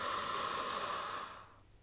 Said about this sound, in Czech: Takže jedem spolu, nádech.